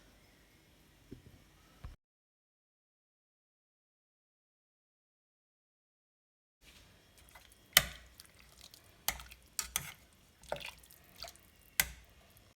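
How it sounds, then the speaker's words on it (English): Cooked ramen noodles poured into a bowl; soft wet slaps, drips and squishy splats come in a loose cluster after a stretch of silence, close and fairly quiet. "Now that the noodles are fully cooked, I'm just gonna pour them into the bowl and add these."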